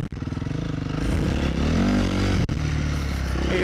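A Honda CRF450R dirt bike engine drones loud and steady close by while riding a trail, its revs rising and falling, with a brief scrape or clatter near the middle.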